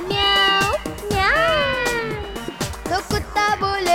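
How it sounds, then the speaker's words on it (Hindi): A cat meows repeatedly with bright, rising and falling calls over a children's Hindi rhyme with music and singing, close and fairly loud. "बिल्ली करती म्याओ"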